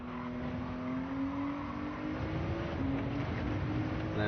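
Race car in Gran Turismo 7 braking and downshifting to third gear during a time trial, its engine droning steadily with a shifting whine, moderately loud and without any talk.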